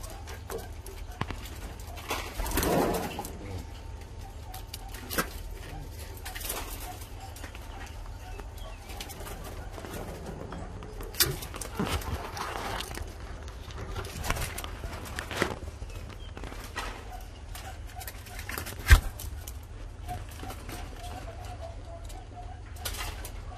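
Spotted doves cooing in a breeding setup, soft repeated coos at mid distance amid a steady low background hum, with occasional shuffles and a sharp knock.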